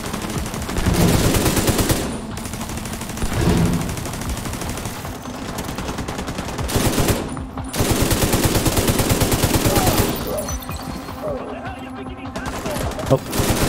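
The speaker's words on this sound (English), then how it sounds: "And I am just hurtling rounds downrange" Machine gun fire in The Division 2 roars in long, loud, close bursts with short gaps between them, rapid and sustained, while other battle noise sounds in the background.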